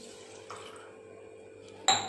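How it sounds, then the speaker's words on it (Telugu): Water is poured onto sugar in a pan to make syrup for gulab jamun, a soft liquid trickle over a low hum, ending in a louder splash and clink. "ఇప్పుడు మనం నీళ్లు పోసుకుందాం."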